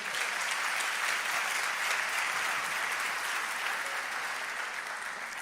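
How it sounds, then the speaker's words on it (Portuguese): A church congregation applauds steadily, a dense and even wash of clapping that holds at a constant level from start to finish with no voices over it. "Pode aplaudir o Senhor com fé."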